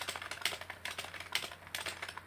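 Keys clatter steadily on a computer keyboard while C++ code is entered, a fast run of light clicks with a few heavier, sharper strokes standing out, close and fairly quiet with no talking.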